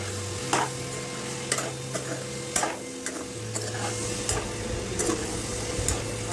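Soya chunks, also called meal maker, are mixed and fried with salt in a pan for biryani, giving scraping stir strokes every second or so over a steady sizzle, with a low hum running underneath.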